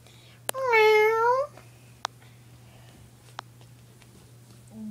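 A cat meows once near the start of the clip, a drawn-out, rising-and-falling meow lasting about a second and heard close and clear, followed by a few faint clicks over a steady low hum.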